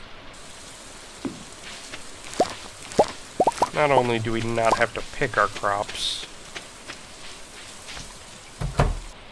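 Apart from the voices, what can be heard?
rain falling in the video game Stardew Valley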